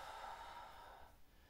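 A person exhales during a guided yoga breathing exercise, a soft, faint breath of air lasting about a second that fades into quiet.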